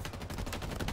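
Rapid bursts of battle rifle fire in Halo Infinite, a dense run of sharp shots with no voices over them.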